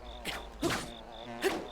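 Bees buzzing in the video game Zelda: Breath of the Wild form a continuous insect hum, with a pulsing high note and three brief louder swells over the top.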